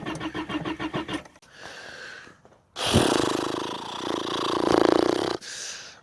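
A vehicle engine cranks repeatedly without catching, its rhythmic starter whir running for several seconds before a louder, rougher burst of cranking that still fails to fire, close and loud with no talk.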